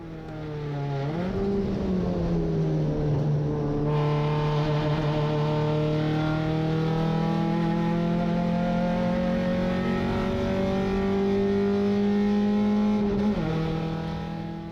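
A small Hyundai Excel race car lapping the Bathurst circuit, its engine droning steadily from inside the cabin with rising and falling pitch as it shifts and accelerates, loud and continuous.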